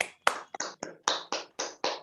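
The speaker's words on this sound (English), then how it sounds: "a great applause to all of you" Meeting participants applaud in a sparse, uneven patter of roughly nine distinct claps, close and moderately loud, with no voices over them.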